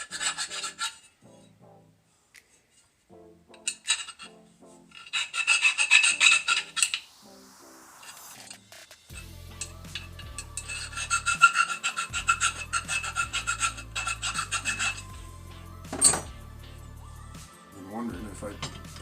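A hand file rasps at slag inside the bolt holes of small cast metal parts for a chainsaw mill, in bursts of short scraping strokes, with someone talking between and over the filing.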